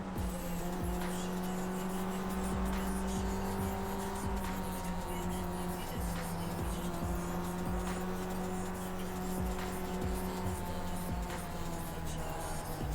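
Race cars circling a wet track in the iRacing sim racing game, engines droning steadily at a moderate pace, with tire noise and a constant, loud and continuous drone throughout.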